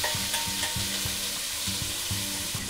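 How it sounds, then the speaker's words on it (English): Chopped onion sautés in a pan with a dense, continuous sizzle, while a utensil scrapes and taps against the pan in a rough repeating rhythm. "Now I saute the onion."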